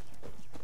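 Horse hooves clip-clop in the Far Cry 6 video game, a short run of steady, mid-level steps with no talk over them.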